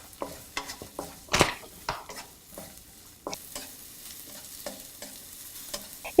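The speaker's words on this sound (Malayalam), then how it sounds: "ഈ സെയിം പാനിലോട്ട് ബാക്കിയുള്ള 1 ടേബിൾ സ്പൂൺ എണ്ണ ഒഴിച്ച് ചൂടായി കഴിയുമ്പോൾ ഇഞ്ചി, വെളുത്തുള്ളി, പച്ചമുളക്" Ginger, garlic and green chilli sautéed in oil in a pan: a soft sizzle under irregular sharp scrapes and clinks of a utensil stirring against the pan.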